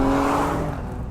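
An Alfa Romeo Stelvio Quadrifoglio's 510 hp engine, driven in race mode, roars loud and close in a short, sustained burst that fades slightly as it pulls through the gears.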